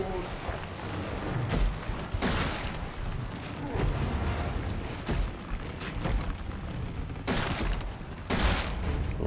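Gunfire in a Resident Evil game, with several sharp shots and bursts spread through the clip over a steady background of in-game noise and rumble.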